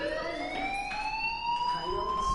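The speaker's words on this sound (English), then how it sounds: "Hey, do you hear that fire alarm?" A fire alarm rings on and on inside a PS4 video game, a steady rising electronic tone with harmonics that holds fairly loud for the whole stretch over faint background noise.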